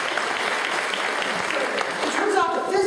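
An audience at a science and cooking lecture claps in a steady, even wash of applause, with a voice starting to speak as it tapers off.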